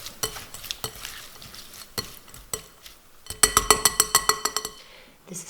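A pan of food with freshly added coriander being stirred, a run of sharp utensil scrapes and knocks against the pan ending in a quick rhythmic burst of clinks, close and fairly loud.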